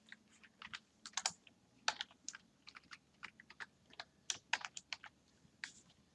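Close computer keyboard typing while writing Python code, with an uneven run of soft key clicks and occasional louder taps, heard on its own.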